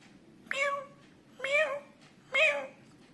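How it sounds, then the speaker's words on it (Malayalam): A kitten mewing three times in short, evenly spaced high cries, each about half a second long, close and fairly soft over a low background hum. "ഒരു പൂച്ചക്കുഞ്ഞ് കരയുന്നത് എങ്ങനെയാണെന്ന് നോക്കാം."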